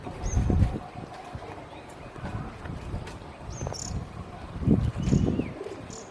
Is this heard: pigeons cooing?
yes